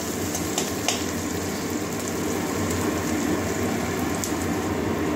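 Chopped onion and garlic frying in a pan while cooking a Bengali eggplant and greens dish, a steady close-up sizzle with faint crackles and a few soft stirring clicks, no voices.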